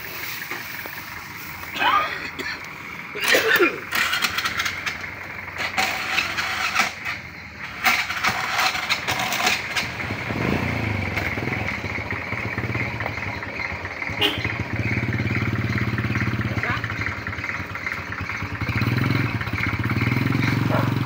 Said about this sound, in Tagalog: Ito yung motor.